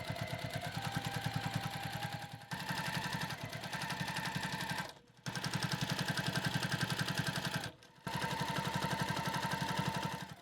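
Sewing machine stitching the seams of a pillow cover, a fast steady mechanical chatter in three long bursts separated by brief pauses, close and fairly loud.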